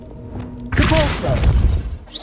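The Depulso force spell in Hogwarts Legacy, a sudden loud whooshing blast with a heavy thud and crumbling, shattering debris that rings out and fades; a voice speaks over it.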